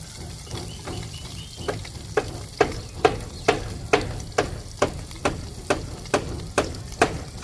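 Fish frying in a pan in a Bangladeshi village kitchen: a steady sizzle under a regular, close scraping and tapping that repeats about twice per second.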